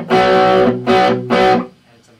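Three loud, punchy overdriven electric guitar chords through a Marshall MG15DFX amp ring out one after another, each sustaining briefly before the next, then the last fades.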